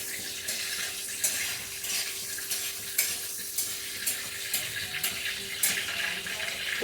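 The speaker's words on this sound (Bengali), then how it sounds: "এখন তেলটার মধ্যে দিয়ে দিচ্ছি গোটা এলাচ, দারচিনি।" Whole cardamom and cinnamon fry in hot oil for a shrimp curry, a steady close hiss with repeated soft scrapes of a spatula stirring at a regular beat.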